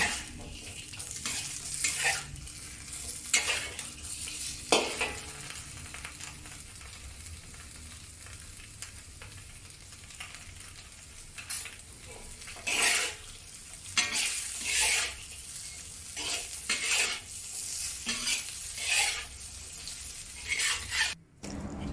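Crispy tofu cubes tossed in a wok with a ground pepper seasoning mixture, giving a steady sizzle broken by repeated scraping strokes of a utensil and metal clatter over about twenty seconds of close, moderately loud stir-frying.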